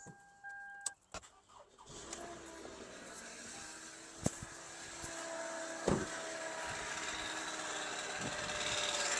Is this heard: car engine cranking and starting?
yes